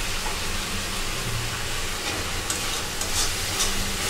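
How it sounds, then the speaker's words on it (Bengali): Fish curry spices with coriander powder frying and being stirred in a pan for a rui fish and potato bhuna, a steady close sizzle with soft scraping strokes running throughout, no voices. "এখন ভালোভাবে নেড়ে চেড়ে নিব"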